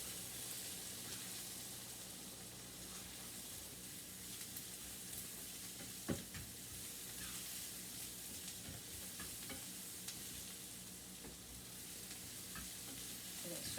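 Spices including cayenne pepper being stirred into lentil soup in a pot over heat, with a steady soft sizzle and scraping under an even hiss, plus a few sharper spoon clinks near the middle.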